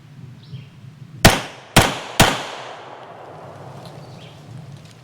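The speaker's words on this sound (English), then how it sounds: "I'm going to try just 3 rounds of the 124 grain Phoenix out of the MAC-50." Three sharp, loud gunshots from a French MAC-50 (Mle 1950) 9mm pistol firing 124-grain Phoenix rounds on a range, spaced about half a second apart and ringing out close by in otherwise quiet surroundings.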